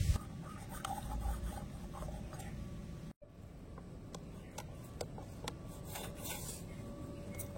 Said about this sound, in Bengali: ছুরির পেছনটা দিয়ে আমি এরকম এই যে হালকা হালকা করে এরকম দাগ টেনে দিচ্ছি।